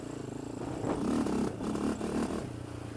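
Engine of a Polaris Outlaw 525 ATV while riding, a rough, buzzy roar with rising and falling throttle and rattling clatter from the bumpy ride, heard close and steady throughout.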